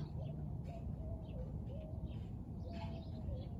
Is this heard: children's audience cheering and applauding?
no